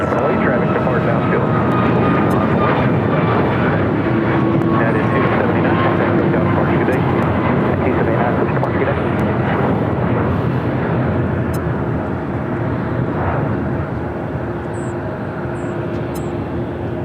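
A Sun Country Airlines Boeing 737-800 jet roars down the runway on takeoff at LAX, a loud, steady broadband engine rumble that holds for the whole stretch, with a faint tonal whine riding on it.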